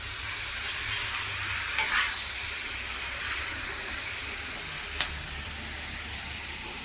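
Cleaned prawns frying in a pan with kokum: a steady, moderate sizzle and hiss throughout, with two or three faint clinks of stirring and no talk.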